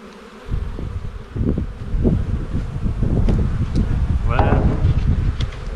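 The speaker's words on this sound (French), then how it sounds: "Ça c'est un essaim, hein, évidemment." A swarm of honeybees drones loudly and continuously up close during a quick beehive colony check, the dense buzz swelling with wind buffeting the microphone.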